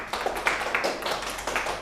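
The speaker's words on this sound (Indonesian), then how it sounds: "Tepuk tangan buat kelompoknya Diva." Classroom applause for a student group, a short run of rhythmic hand claps close by, moderately loud and steady, with no voices over it.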